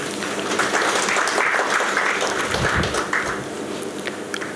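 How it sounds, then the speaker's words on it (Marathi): Audience applause for a new vice chancellor at a university senate meeting, steady and sustained clapping from a full hall for several seconds, fairly loud and even throughout. "आपण त्यांचं टाळ्या वाजवून अभिनंदन करूया"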